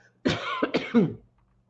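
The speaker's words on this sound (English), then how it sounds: "So my throat's a little scratchy, so I'm sorry about the coughing" A short burst of close coughing, three or four rough hacks in quick succession, loud and close, then quiet.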